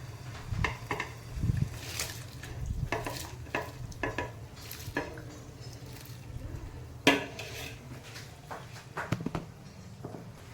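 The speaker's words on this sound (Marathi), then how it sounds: "तांदूळ हा मी याच्यात घालून घेणार आहे" Rice tipped into a pot of boiling water laced with a ladle of oil for chicken biryani, giving a run of close clinks, scrapes and stirring knocks over a low steady simmer, with no voices.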